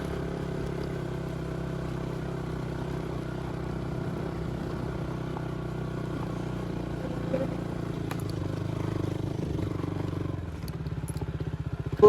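A motorcycle engine runs steadily up close for the whole stretch, a continuous low rumble with some clatter, swelling slightly near the end.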